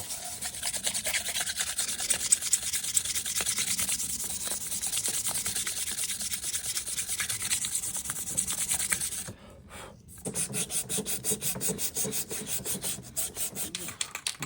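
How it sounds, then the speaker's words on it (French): Sanding an aluminium part of a vintage fuel pump by hand, a steady scratchy rasping rub that continues close and loud, pauses briefly near the end, then resumes in quicker strokes. "après un petit ponçage et nettoyage de la pièce à l'embranchement du pistolet"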